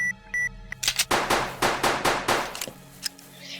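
Pistol fire in the Roblox game Bigfoot comes as a rapid burst of about eight close, sharp shots in quick succession, preceded by a couple of short electronic tones.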